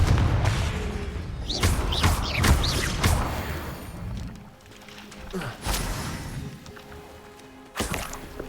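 Confringo blasting spells burst repeatedly in a Hogwarts Legacy duel, several sharp whacks and crashing explosions spaced irregularly among other spell effects, loud and close.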